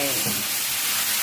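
Minced pork frying in oil in a pan, a continuous loud hiss and crackle of sizzling with a brief murmur of voice at the start.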